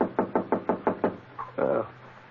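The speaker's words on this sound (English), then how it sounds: "the sound I heard was a knock on my door" Six quick, evenly spaced knocks on a door land close and loud, followed by a brief muffled shuffle or thud, with no talk.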